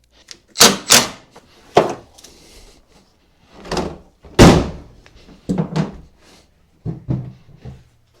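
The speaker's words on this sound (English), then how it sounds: "I'm going to attach these and see how the hood shuts." The hood of a Toyota RAV4 under repair comes down in a series of separate thunks and slams, with short gaps between them, some sharp and loud, others softer, close by and with no talk.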